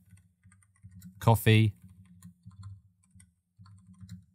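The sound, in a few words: typing on a computer keyboard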